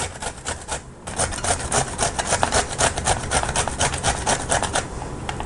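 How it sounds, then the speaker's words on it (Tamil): Cauliflower is rubbed by hand over a grater in a home kitchen, making quick, rhythmic rasping strokes, close and fairly soft, with no talking. "முடிஞ்ச வரைக்கும் இந்த மாதிரி நீங்கள் கிரேட் பண்ணிக்கோங்க."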